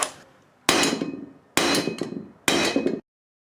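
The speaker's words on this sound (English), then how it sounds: "my hammer to drive all of these studs into place" Three sharp metal hammer strikes driving 9/16-inch lug studs into a first-generation Cummins wheel hub ring out about a second apart, each clang decaying quickly before the next blow.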